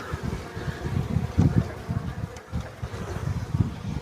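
Agitated honey bees swarm around an open hive at an apiary, making a loud, dense, continuous buzzing that swells and dips in pulses throughout.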